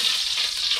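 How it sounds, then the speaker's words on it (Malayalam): Coconut oil hisses in a pan in a cold hostel kitchen in Munnar, ready for frying chicken; a continuous close, bright sizzle with no voices. "വെളിച്ചെണ്ണ ഒഴിക്കുന്നുണ്ട്."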